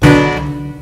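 A single clavichord note with muted sympathetic strings, dry and close, with a quick attack and a short, damped decay.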